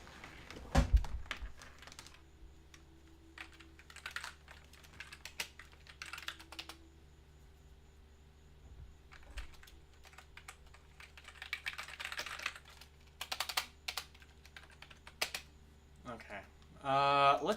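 Someone types on a computer keyboard while playing janky retro Spectrum games, the keys sounding in irregular short bursts with pauses between them, close and moderately loud over a faint steady hum, ending in a louder clatter.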